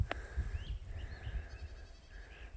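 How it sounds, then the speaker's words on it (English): A young goat kid bleats for its mother outdoors near a tree, thin high cries rising and falling a few times at moderate distance over low wind rumble. "I just had to bring him out here with some other goats and hoping that he'll ball his mama up."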